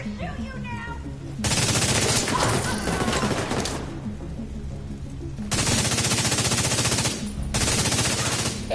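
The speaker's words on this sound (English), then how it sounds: "I'm gonna shoot you now!" Gunfire in The Division 2 on PS5 comes as long, loud bursts of rapid automatic fire, separated by brief pauses, with some quieter game noise between the bursts.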